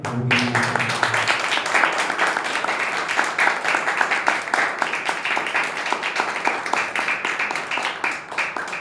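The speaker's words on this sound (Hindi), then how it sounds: "ताली बजा के" A church congregation claps along during a Good Friday service, a dense, steady patter of many hands filling the room for several seconds, with a brief voice at the start.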